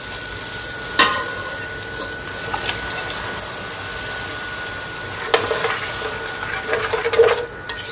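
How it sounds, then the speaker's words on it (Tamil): Steady sizzling in a hot pan as soaked lentils are stirred in, with scraping stirs and occasional clinks of a utensil against the metal. "இதில் நான் ஊற வச்சிருக்கிற இந்த பருப்பு எல்லாம் ஆட் பண்ணிக்க போகிறேன்"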